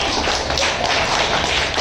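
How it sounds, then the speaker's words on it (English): A school class claps together in a classroom, a dense, steady patter of many small hands that is close and fairly loud, with no voices over it. "Clap."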